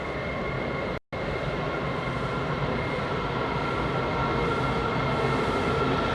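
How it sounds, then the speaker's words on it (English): Another train passes through a station in Washington, D.C., a steady loud rumbling roar with a faint high whine, continuous apart from a momentary dropout early on. "Here's another train passing through."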